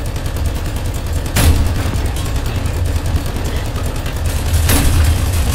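British tank cannon fire in War Thunder arcade battles: two sharp, booming shots a few seconds apart over a steady low engine rumble, loud and close.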